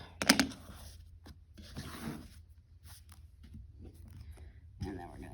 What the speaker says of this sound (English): So we're going to cut the corners off.